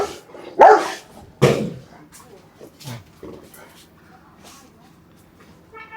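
A Rottweiler gives a few loud, deep barks spaced apart near the start, then quieter sounds follow with people talking nearby.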